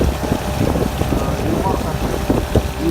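A Yamaha 9.9 outboard motor runs on an RTR Pro 385 PVC inflatable boat on a river. It makes a steady, close drone with rough wind buffeting over it and no clear pauses.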